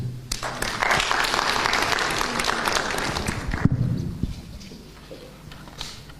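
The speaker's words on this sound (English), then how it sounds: "A round of applause, ladies and gentlemen." Audience applause after a speech at a formal political gathering, a broad, dense clapping wash from a sizable crowd that holds steady for several seconds, then thins out and tapers toward the end.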